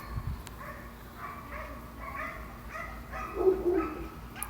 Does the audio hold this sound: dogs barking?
yes